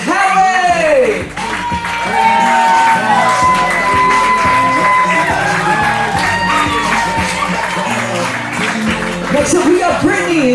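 A loud crowd of wedding guests in a garden cheers, claps and whoops for the wedding party's entrance, a sustained roar of mixed shouts and applause with voices rising above it.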